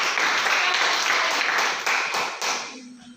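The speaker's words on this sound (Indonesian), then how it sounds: "Oke, baik, tepuk tangan untuk teman-teman" A classroom of students applauds a presenting group: dense, lively clapping that holds steady, thins out with a few last claps, and stops near the end.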